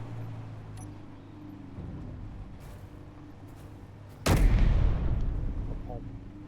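A single loud, sharp blast from a tank turret's test shot in the Space Engineers video game, followed by a short rumbling tail after a quiet stretch of low engine hum.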